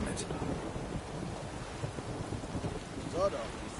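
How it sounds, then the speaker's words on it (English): Steady rain during a thunderstorm in Witcher 3, a soft continuous hiss with low rumbling underneath, fairly faint and even throughout, with a brief vocal-like sound near the end. "A storm, damn it."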